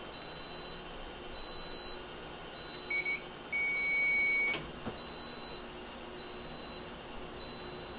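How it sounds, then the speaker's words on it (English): A multimeter gives short electronic beeps during a voltage test in a power tunnel repair, sounding faintly over a steady background hum. "What my meter is alarming on, it's alarming on the voltage is a little low. Like that one, it did a single beep."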